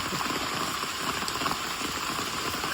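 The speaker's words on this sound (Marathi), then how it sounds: "अलिबाग पासून कंटिन्यू पाऊस चालू आहे" Continuous steady hiss of rain falling near Alibag, dense and even throughout with no other clear sounds standing out.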